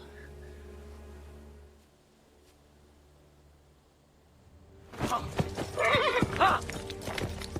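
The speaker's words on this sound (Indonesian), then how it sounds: "dia pun mencuri kuda-kuda milik prajurit yang telah mati untuk dia gunakan dalam" Horses in a film scene: after a quiet, low hum, a close, loud burst of neighing and whinnying breaks out alongside rapid clip-clopping hooves for the last few seconds.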